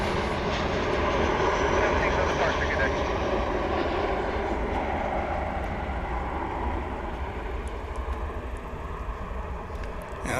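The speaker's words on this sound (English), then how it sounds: "Now that's a plane coming in from Guadalajara there in the foreground." An American Airlines airliner on approach from Guadalajara into Dallas/Fort Worth International Airport, its engines a steady broadband roar that holds loud throughout and eases slightly toward the end.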